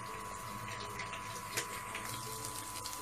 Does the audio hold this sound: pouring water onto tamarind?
yes